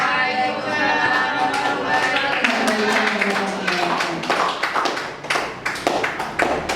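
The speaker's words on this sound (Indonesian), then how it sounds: "Boleh tepuk tangan lagi?" An audience applauds at a school training session on positive culture after a presenter finishes. A voice speaks over the start, then a burst of scattered, close clapping builds and continues to the end.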